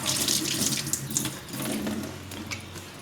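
Water running from a kitchen tap into a sink in an HDB flat, a steady close splashing stream with uneven surges, heard alone for a few seconds.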